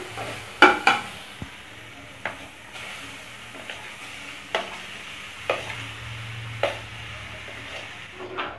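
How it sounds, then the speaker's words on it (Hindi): Boiled potatoes are mashed in a frying pan, giving irregular scraping taps and soft knocks of a utensil against the pan. A faint sizzle runs underneath, up close and with no talking. "आप आलू का कोई भी मोटा टुकड़ा दिखे तो आप उसे अच्छे से मैश कर लें।"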